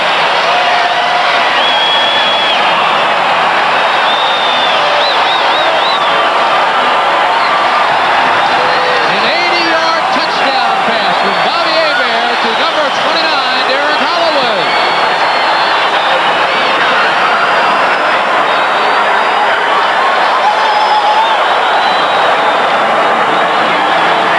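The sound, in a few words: football stadium crowd cheering after touchdown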